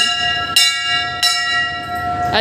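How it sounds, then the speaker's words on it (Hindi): A temple bell rings loudly twice in a steady rhythm at Mahakaleshwar temple, each strike leaving a long, bright metallic ring that hangs in the air. "बजा दे घंटी।"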